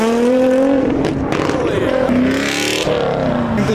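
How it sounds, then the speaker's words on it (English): Loud Lamborghini engines rev and rise in pitch nearby at a car meet, with rapid climbs in tone and tires squealing. Engine roar is constant and up close. "we got more Lambos revving back there"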